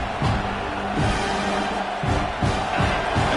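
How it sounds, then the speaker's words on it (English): A football stadium crowd rumbles and cheers as the defense holds in the red zone, a dense, loud roar with rising swells of shouting and no clear single voices. "Crowd coming to life here, trying to help this defense down in the red zone."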